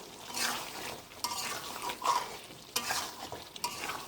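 Chicken frying in oil, with a close, continuous crackling sizzle and bursts of stirring scrapes from utensils in the pan.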